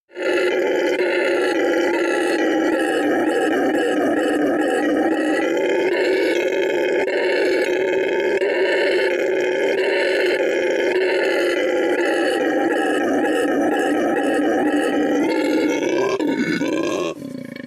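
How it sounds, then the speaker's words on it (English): A howler monkey gives a continuous deep, roaring call that stays loud and sustained with rough, growling texture, fading with a brief drop at the end. "You ever hear a howler monkey?"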